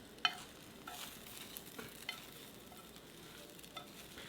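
Eggs for omurice cook in a pan, giving a faint, soft sizzle with light stirring scrapes and a few small clicks of a utensil against the pan, heard alone.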